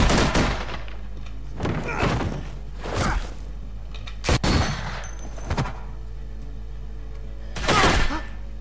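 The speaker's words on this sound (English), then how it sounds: "I hear gunfire." Several sharp video-game gunshot bursts from The Walking Dead season 3 crack out at irregular intervals, loud and close, with low rumbling between them.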